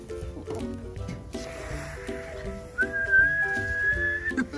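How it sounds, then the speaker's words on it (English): A shrill, sustained toy whistle tone sounds for over a second, rising slightly in pitch, after some rustling and handling noise with a brief breathy hiss. "Is that a whistle?"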